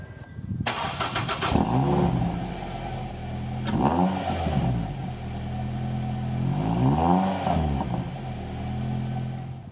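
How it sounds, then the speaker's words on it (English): A car fitted with a full non-resonated Milltek exhaust, 4-1 manifold and sports cat starts up, then revs three times in rising and falling swells with a raspy, burbling tone between blips, close and fairly loud. "I'm just gonna start the car again, and yeah, just listen to what it sounds like."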